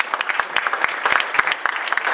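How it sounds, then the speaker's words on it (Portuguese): Church congregation applauding during a service, brisk and loud clapping from many hands with individual sharp claps standing out, continuous for a couple of seconds. "Pode dar um aplauso ao Senhor Jesus."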